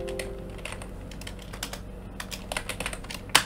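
Clattering keystrokes on a computer keyboard as Linux terminal commands are entered on a Raspberry Pi setup, a steady run of close, light clicks ending in one louder key strike.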